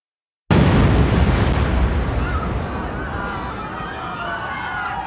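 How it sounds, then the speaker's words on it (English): A truck bomb detonates in the underground B2 parking level of the World Trade Center in 1993, a sudden loud blast after silence that rolls into a long, rumbling roar slowly fading under a faint voice. "12 minutes later, the bomb went off."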